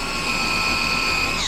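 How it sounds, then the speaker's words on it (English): A power drill pre-drilling holes in an RV wall during a renovation, its motor whining steadily and loudly with a slight rise in pitch near the end, heard alone. "I'm gonna pre-drill a couple of holes right here."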